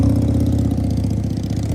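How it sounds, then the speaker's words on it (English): A motorcycle engine idles close by with a steady, low, throbbing pulse that holds even and loud from start to finish, with no voices over it. "I like your bike."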